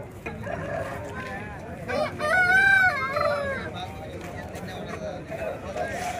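A rooster crows clearly at the Mydukur poultry market, with a long rising call in the middle, while people talk nearby under a steady background murmur.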